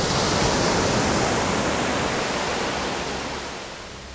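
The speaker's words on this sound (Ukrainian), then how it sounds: "Хвилі нездорові." A loud, dense roar of breaking waves washes over Anse Lazio beach on Praslin, Seychelles, constant and close, slowly easing toward the end.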